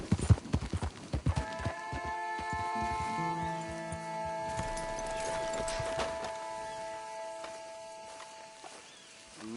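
A horse walks in Red Dead Redemption 2, hooves clip-clopping in a rapid series at the start and then fading into a sustained musical tone and ambience.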